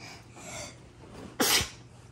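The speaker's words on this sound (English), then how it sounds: "How do you sneeze?" A child's single sharp sneeze, close and loud, preceded by a quiet breath in against a faint indoor background.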